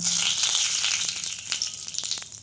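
A bay leaf frying in a small amount of ghee gives a steady, close crackling sizzle with a few brief pops, fading slightly toward the end.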